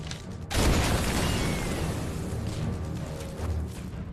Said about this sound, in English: the 121st Engineers have uncovered 4 naval shells and rigged them for simultaneous detonation